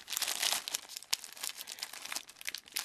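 Wrapping paper is torn and crumpled while a Secret Santa gift is unwrapped, giving a close, continuous crinkling and ripping with bursts of louder tearing and no talk.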